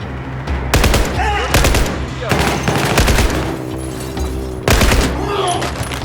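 Loud automatic gunfire in a first-person shooter video game, with rapid repeated bursts and heavy firing throughout, and voices mixed into the battle noise.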